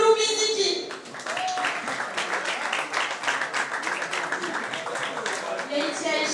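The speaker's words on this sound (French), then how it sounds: "Un tonnerre d'applaudissements pour Foulou Biziki" Applause from a press-conference audience at a jazz event, a dense continuous patter of clapping that swells and holds throughout, with a voice briefly audible at the start.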